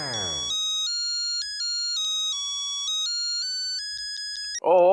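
An electronic phone ringtone plays a bright stepped melody of pure beeping tones, then a voice cuts in at the end.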